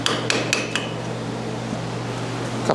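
Four quick, light metallic hammer taps land near the start on a part of a 1958 Ford 851 tractor, evenly spaced, followed by a steady low hum with no voices.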